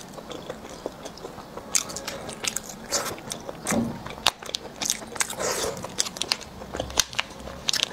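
Someone bites into and chews a salt-baked egg with a yolk inside, giving repeated close, crisp crunching and moist chewing sounds in an irregular rhythm, with no talking.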